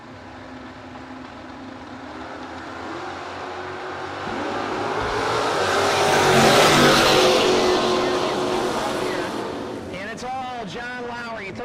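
A Camaro bracket drag car at a no-box drag race roars away, engine building to a loud peak mid-clip and fading down the track, with an announcer's voice heard toward the end.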